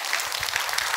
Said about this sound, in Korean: 여러분 새벽에 오셨는데 박수 한번 해주세요